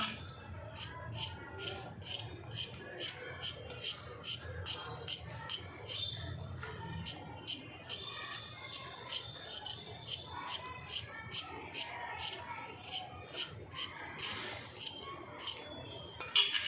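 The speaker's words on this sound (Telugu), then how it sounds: "ఆలుగడ్డలు అయితే కట్ చేస్తున్నాం ఫ్రెండ్స్" Potatoes being cut by hand at home produce a quiet, steady run of regular crisp knife chops on a board, close and low in volume, with faint speech at times.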